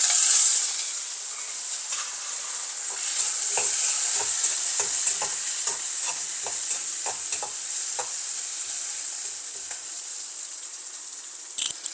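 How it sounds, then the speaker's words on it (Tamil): Food frying in a pan for a simple egg curry, a bright steady sizzle with a run of rhythmic stirring scrapes and taps through the middle, then a sharp clatter near the end. "நல்லா பொரியட்டும்"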